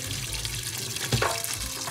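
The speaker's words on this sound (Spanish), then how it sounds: "las pasamos por agua fría" Cold tap water runs steadily into a kitchen sink over freshly blanched almonds, a close, even splashing hiss with a brief louder gush partway through.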